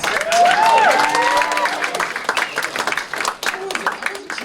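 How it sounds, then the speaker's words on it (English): A crowd at a live show claps for an introduced guest, the applause mixed with loud whoops and cheering voices that fade somewhat toward the end. "Let's give Mr. Masters a round of applause."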